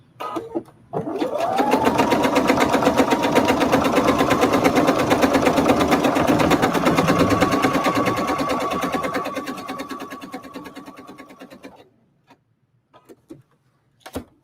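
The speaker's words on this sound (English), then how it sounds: "My machine automatically does the stitch there" A domestic sewing machine stitches denim jeans, running an automatic reinforcement stitch in one steady, close whirring burst of about eleven seconds before stopping, followed by a few faint clicks.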